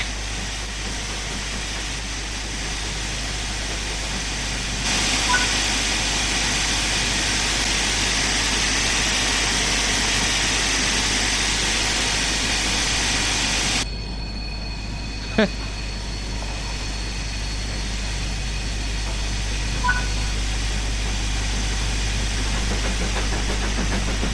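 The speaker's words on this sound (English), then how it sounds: "What a beautiful sounding loco" Steam locomotive engine on the Peak Forest route in Train Sim World 3, a steady broad rumbling chuff held for long stretches with a sharp change partway, a few brief clanks over it, fairly loud and close with a slight echo.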